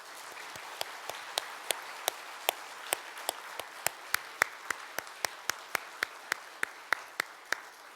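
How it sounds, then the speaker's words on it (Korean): A congregation claps in unison at an Easter Sunday church service in Busan, a steady rhythmic beat of roughly two dozen evenly spaced claps that is full and moderately loud, with no speech over it. "우리 하나님 앞에 영광의 박수를 올려드리겠습니다"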